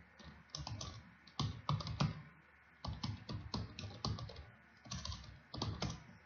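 Rapid bursts of typing on a computer keyboard while entering text into a form designer for a C# pharmacy management program, close and clear, with short pauses between runs of key clicks.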